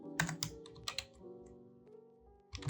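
Code typed on a computer keyboard while building a React and Node.js restaurant POS admin dashboard: quick clusters of crisp, close key clicks, a brief lull, then another burst, with no talking.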